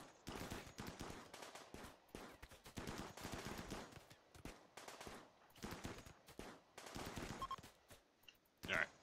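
Rapid bursts of video game gunfire, machine-gun fire and shotgun blasts, rattle steadily through the whole stretch, loud and close, with brief gaps between volleys and quiet voices beneath.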